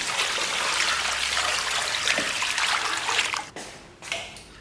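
Water runs steadily from a tap while beef ribs are rinsed, a close, continuous rushing splash that breaks into uneven splashes and drips as it tapers off near the end.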